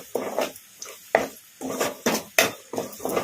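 Chicken with onions, green chillies and curry leaves fries in a pan over a medium flame. A spoon scrapes and stirs in a steady run of short, close bursts.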